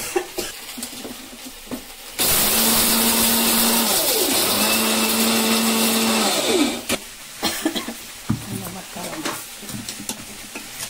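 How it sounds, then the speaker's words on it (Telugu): Mixer grinder whirring loudly for about four seconds as roasted coriander seeds are ground into spice powder, its motor pitch dipping and rising, with clattering handling sounds before and after. "మిక్సీ పడుతున్నాను."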